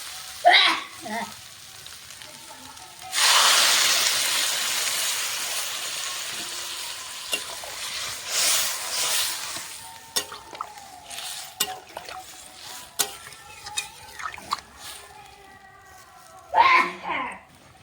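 Water poured into a pan of potatoes, broccoli and spices frying in oil bursts into a loud hiss that settles into softer sizzling, broken by stirring clatters, with someone talking at the start and end.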